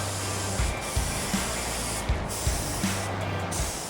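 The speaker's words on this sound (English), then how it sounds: "I sprayed this one at about 25 psi" A spray gun at about 25 psi coats the rear end of a Chevy K1500 truck with paint, a continuous close, loud hiss punctuated by faint clicks and shifts in intensity.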